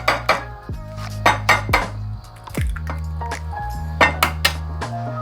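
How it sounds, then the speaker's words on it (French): Three eggs are cracked against a bowl in a kitchen, sharp close knocks and clinks in quick succession with ringing ceramic tones between taps and soft wet drops. "je vais casser 3 œufs dans un récipient"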